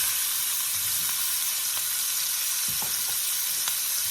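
Diced carrots and onions sauté in a pan with a steady, close sizzle and a few soft stirring scrapes, with no talking.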